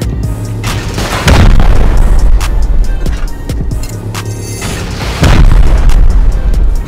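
Incendiary rockets exploding in the video game Rust, heavy loud booms arriving in two big bursts with crackling impacts and rumbling between them, close and dominant.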